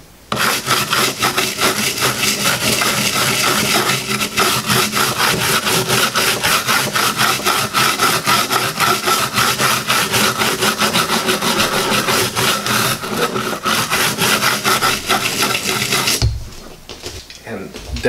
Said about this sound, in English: we're going to take our cleaning brush. Go lightly over.